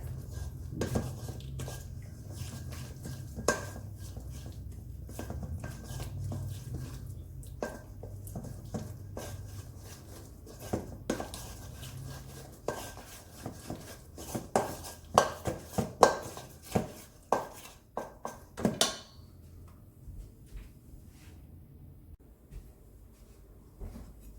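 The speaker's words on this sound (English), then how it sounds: "So we're just gonna mix this up so that it's well blended." A spoon scrapes and clinks against a bowl while chili paste sauce is mixed for crunchy peanut butter tempeh. The knocks come irregularly, grow more frequent and sharper, then stop, leaving near silence.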